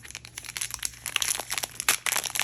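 Clear plastic wrapping on a Commander Legends card booster pack crinkles and crackles close up in quick irregular bursts, with no voices.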